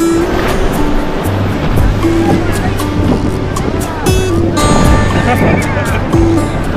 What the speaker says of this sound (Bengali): এত বড় বড় ঢেউ আসছে এখানে